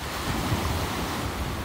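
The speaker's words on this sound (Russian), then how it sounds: "С моря дует ветер." Wind blows off the Black Sea at Sochi on a cloudy March day, a loud, steady roar of wind buffeting the microphone over the wash of surf.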